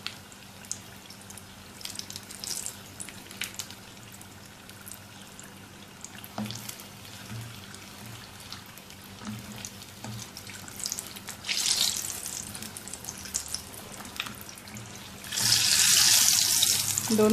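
Homemade aloo samosas frying in hot oil, a steady soft sizzle and bubbling throughout that grows into a louder, brighter hiss near the end.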